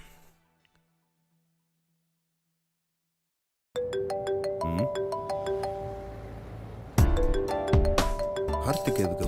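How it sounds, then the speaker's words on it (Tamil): After a few seconds of near silence, a mobile phone ringtone starts up loud and close: a bright repeating electronic melody that plays on and briefly swells louder partway through. "கார்த்திக் எதுக்கு ஃபோன் பண்றான்?"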